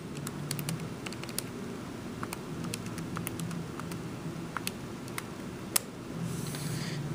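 Numbers tapped into a calculator on a keyboard for a math problem: scattered light, sharp key clicks in an uneven rhythm, faint and close, over a low steady room hum.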